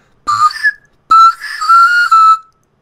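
A panflute played with half tonguing, two clear breathy phrases, a short note then a longer sustained line with small pitch steps, loud and close against silence.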